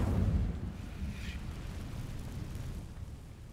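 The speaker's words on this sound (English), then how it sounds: "Incendio!" Incendio fire spell cast in Hogwarts Legacy, a loud deep whooshing burst of flame at the start that fades into a low rumbling roar.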